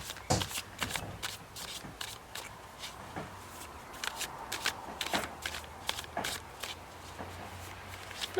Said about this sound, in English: Look how careful you're trying to shuffle now.